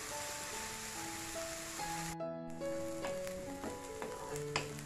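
Onion and garlic fry in a pan until they char, a steady sizzle running the whole time. Sustained tones from background music sit over it, and a brief gap comes near the middle.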